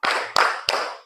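Three sharp hand claps in quick, even succession, loud and close, from a group clap game used as an ice-breaker.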